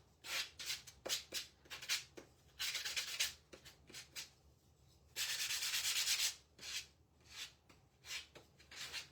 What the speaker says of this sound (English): I'm just going to lightly sand over it.